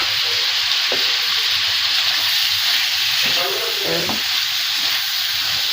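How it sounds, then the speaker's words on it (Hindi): Chicken liver with ginger garlic paste fries hard on high heat for a kaleji curry, a loud, dense, continuous sizzle with a few scraping stirs near the pan and no voices. "कलेजी की हम तेज़ आंच पे कर लेंगे भुनाई"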